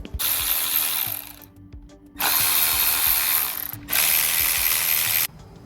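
A hand ratchet undoes bolts on the intercooler of a 2012 Skoda Octavia 1.4 TFSI, giving three loud, close bursts of rapid clicking separated by short pauses, with no talking.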